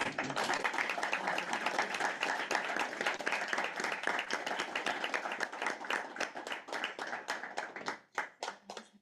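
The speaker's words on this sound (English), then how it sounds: "Okay, well, let's give a round of applause." Audience applause fills a conference hall after a panel session, a dense steady clatter of many hands that holds strong for several seconds, then thins into scattered claps before fading out.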